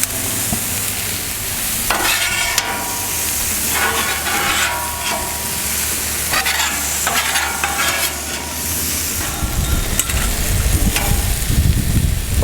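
Beef, onions and mushrooms frying on a Camp Chef FTG600 flat top griddle, with a loud continuous sizzle and hiss broken by repeated scraping strokes of a spatula stirring the food.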